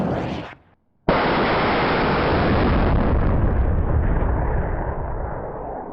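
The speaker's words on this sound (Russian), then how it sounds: "Мы стреляем 120-килограммовыми бомбами, 213 миллиметров." Smerch-2 shipborne rocket launcher firing a 213 mm, 120 kg depth bomb: a short burst, a brief silence, then a sudden loud, sustained rocket roar that fills the clip and slowly fades while staying strong.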